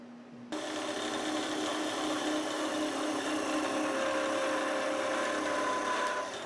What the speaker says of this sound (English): Let's take a slower look at the very end of the part off cut using the flat parting tool.